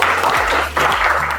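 A classroom group gives a short burst of clapping at the end of a teaching practice session, loud and close, lasting just over a second.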